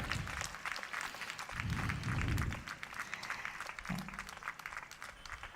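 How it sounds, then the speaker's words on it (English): Scattered, fairly faint applause from the crowd at a school annual sports meet after a combined band display, a continuous patter of clapping with low murmuring beneath it. "Can we give a round of applause to them as well?"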